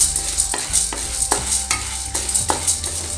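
Peanuts roasting in a dry pan, with repeated scraping stir strokes at a steady rhythm roughly every half second over a faint background hum and no speech.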